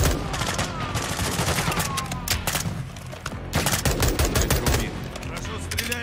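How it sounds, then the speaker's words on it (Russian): Rapid automatic gunfire and bursts of shots crackle densely in the Call of Duty: Modern Warfare 2 (2022) video game, loud and near, with brief combat chatter mixed in. "Хорошо стреляешь, Смирман."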